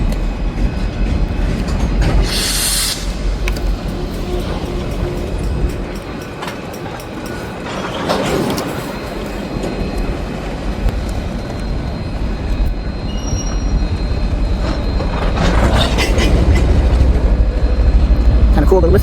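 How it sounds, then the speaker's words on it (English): Freight train backing up while switching tracks beside the Mississippi River, a loud continuous rumble of rolling cars with metallic clanks and squeals as couplers bump together. "so it's backing up. That's the locks on the train bouncing up against each other."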